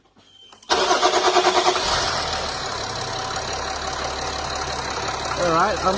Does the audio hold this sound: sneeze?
no